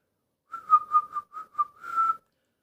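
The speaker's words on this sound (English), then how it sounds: "give it a little whistle" A person gives a short, warbling whistle into the microphone of a 1970s Craig 4103 mobile CB radio, a quick run of wavering notes that ends on one longer held tone, fairly soft and heard alone.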